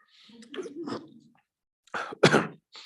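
Two bursts of harsh, throaty coughing close by, a rougher one first and then a louder, sharper fit after a short pause.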